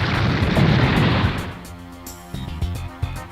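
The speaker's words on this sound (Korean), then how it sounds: "폭발이 가까워." A booming explosion in the PS1 game Super Robot Wars Alpha bursts loudly and close, then rumbles down into softer clanks and thuds amid game music.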